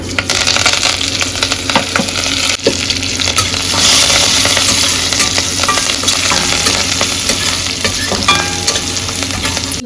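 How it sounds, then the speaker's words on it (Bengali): Whole fenugreek, mustard seed, cumin, coriander and ajwain spit and crackle loudly in hot oil, a dense continuous close sizzle with scattered pops and small clinks. "এটা আমি পুরোটা ফোড়নে দেবো জানো তো এই দেখো তেল গরম হয়ে গেছে"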